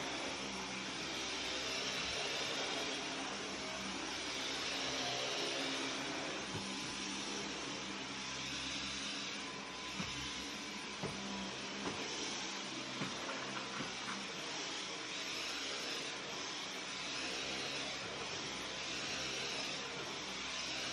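A vacuum cleaner drones steadily for a long stretch, a constant whooshing hum with small bumps and knocks as it moves across the floor.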